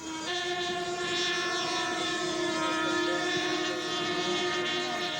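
A scratch-built RC scale A-10 Thunderbolt II jet with two OS-46 engines driving Turbax 1 ducted fans flies overhead, giving a loud, steady, high-pitched whine with strong tonal harmonics that sweep slightly in pitch.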